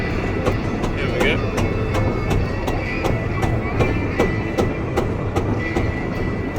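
A ride-on train at Paultons Park amusement park at Christmas rolls along its rails, wheels clacking in a steady, regular rhythm over a continuous rumble, heard close from on board.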